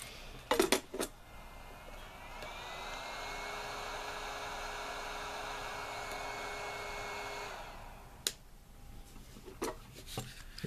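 Hot air blower of an X-Tronic 6040 soldering and hot air station running at 200 °C, a steady airy whoosh that rises in, holds for several seconds and cuts off, with a few clicks and handling knocks before and after.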